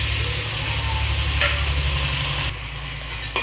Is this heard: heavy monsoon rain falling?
no